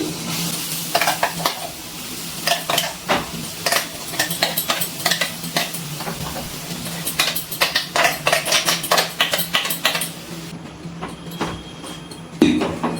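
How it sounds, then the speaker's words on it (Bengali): Carrot paste with gram flour frying in ghee over a low flame, stirred with repeated scraping strokes in an irregular rhythm over a soft, continuous sizzle. "এবার খুব ভালো করে নাড়াচাড়া করে আমি হালকা করে কিন্তু গাজরটা ভেজে নিচ্ছি।"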